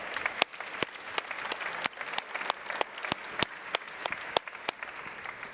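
Audience applause for artist Anne Imhof at a talk, with a steady wash of clapping from a seated crowd and distinct nearby claps popping out in an uneven rhythm.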